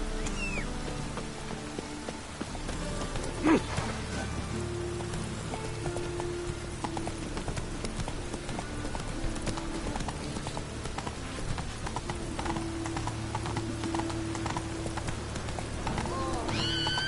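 Hooves of Roach, a horse in The Witcher 3, clip-clop steadily through a trot at close range, with a brief whinny and faint background ambience underneath.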